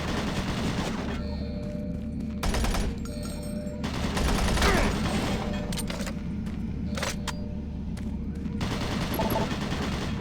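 Automated turret guns blasting in Doom 3, loud rapid bursts of machine-gun fire, nearly continuous with short breaks between volleys and deep booming undertones.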